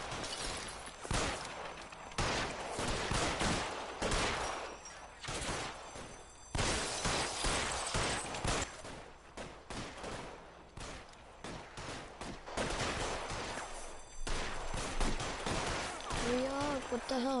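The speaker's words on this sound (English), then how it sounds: "Another shooting." Shootout gunfire in the video game LA Noire: repeated loud bursts of shots across the whole stretch, dense and close, with brief lulls between volleys and a voice briefly heard near the end.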